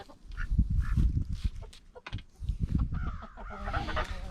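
Ducks quack and chatter busily nearby, a dense overlapping flock of calls with some chicken-like clucks mixed in, no talking.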